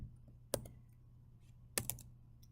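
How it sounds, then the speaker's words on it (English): A few quick bursts of computer keyboard typing, two short clusters of key presses separated by a pause, close and fairly quiet. "I'm going to change these real quick just by typing over them"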